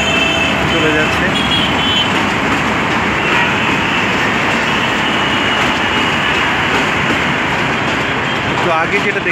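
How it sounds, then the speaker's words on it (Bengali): Intercity train passing on a rail line beside a busy road, a loud, sustained rumble and rattle mixed with road traffic noise, close and continuous, with no clear talking. "সেই রেল দিয়ে এখন আন্তনগর ট্রেন চলে যাচ্ছে।"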